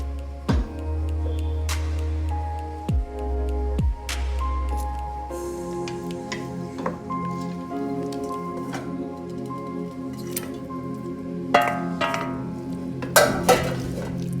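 Cooked pasta stirred into white sauce in a pan: wet squishing and sloshing with scattered clinks and scrapes of a utensil against the pan, close and busy, with a steady low hum underneath.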